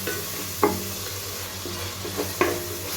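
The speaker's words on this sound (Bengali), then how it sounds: "ভাজা জিরা গুঁড়া দিয়ে খুব ভালো করে মশলাগুলোকে কিছুক্ষণ কষিয়ে নিব" Spices with toasted ground cumin stir-fry in hot oil for mushy khichuri, a steady soft sizzle throughout, punctuated by a few scraping spatula strokes against the pot.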